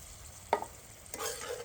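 A spoon scrapes and stirs crushed San Marzano tomatoes with onions in a pan over a medium flame, two short bursts of mixing with a faint sizzle underneath, close and fairly quiet.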